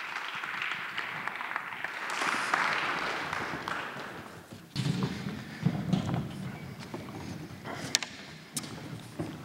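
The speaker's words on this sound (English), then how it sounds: "Please give a round of applause." Audience applause for a graduate student introduced at a university vespers service, a burst of clapping that swells then fades by the midpoint, followed by thumps, shuffling and scattered sharp knocks in the room.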